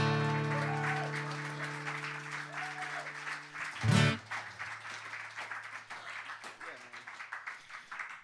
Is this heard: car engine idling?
no